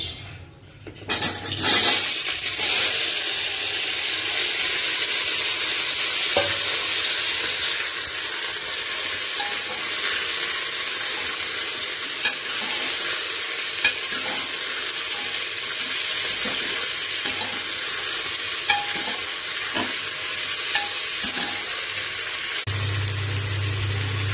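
Cauliflower, runner beans and potato dropped into a hot pan, a loud splash of sizzling that settles into a steady hiss, with occasional stirring knocks until it cuts off abruptly near the end, and no voices.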